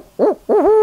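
A person imitates an owl with two vocal hoots, the first short and the second longer and drawn out, close and loud with no other sound around them.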